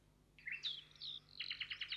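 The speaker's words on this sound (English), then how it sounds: "the birds twittered and chirped among the golden leaves in the trees" Birds in garden trees with autumn leaves give short, high chirps and twitters, a few clear calls followed by a quick rapid trill, close and alone over a faint background.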